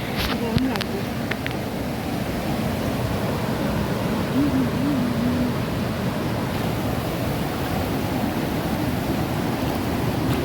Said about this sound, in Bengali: এখান দিয়ে পুরো জল বয়ে যাচ্ছে